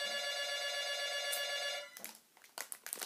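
A landline phone in a house rings continuously and loud for nearly two seconds, then cuts off, leaving a few scattered clicks and rustles.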